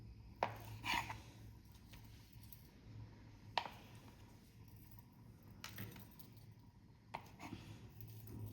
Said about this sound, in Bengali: আমি পনিরটা কেটে নিই।